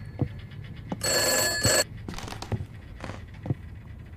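Old telephone bell in the horror video game Summer of 58 gives one sustained bright ring of under a second, fairly close, amid quiet room tone and faint footsteps.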